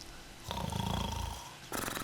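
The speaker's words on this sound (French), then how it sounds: "Dans les prémices légères de ronflement des 2 parties." Soft, light snoring from two people drifting off to sleep in a bedroom, a low breathy rumble with a quiet lull in the middle, then a sudden rise in level near the end.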